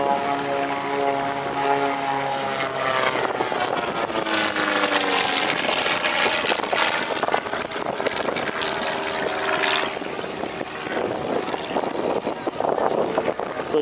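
A HU-16 Albatross seaplane at an airshow drones steadily with its propeller engines, the loud, continuous roar shifting in pitch as it passes, with faint talk mixed in.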